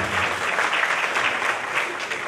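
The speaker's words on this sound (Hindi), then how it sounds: "जोरदार तालियां" Theatre audience applause after a stage play, a dense, steady wash of many hands clapping that fills the whole short stretch at even loudness.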